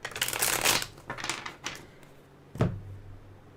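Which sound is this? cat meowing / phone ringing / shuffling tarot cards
shuffling tarot cards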